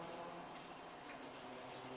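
Excess fuel poured from a fuel pump sending unit back into a vehicle's fuel tank, a steady continuous liquid trickle and splash heard close up for the whole stretch with no talking.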